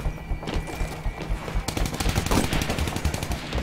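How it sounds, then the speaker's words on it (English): Sustained automatic weapon fire in the video game Titanfall chatters in dense, loud bursts, with impacts and heavier thumps mixed in and the shooting intensifying partway through. "Someone's shooting at me?"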